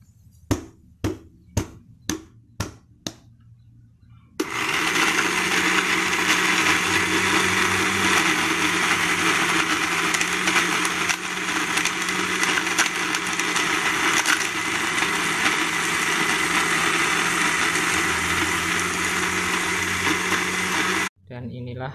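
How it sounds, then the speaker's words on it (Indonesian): Electric blender grinding dried fish into fish meal for poultry feed: a few short pulse bursts, then one loud continuous whirring grind lasting about seventeen seconds before cutting off. "Kita blender terus sampai habis."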